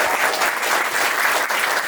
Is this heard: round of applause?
yes